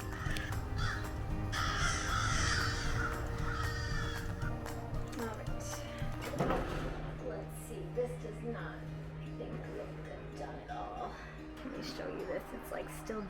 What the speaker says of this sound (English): Do you hear those crows?